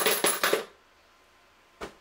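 Brass rifle cases pushed out of a lube tool with a pin, three quick metallic clinks tumbling together, then a pause and one more clink, close and quiet.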